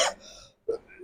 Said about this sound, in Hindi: माफी चाहता हूं, खांसी की और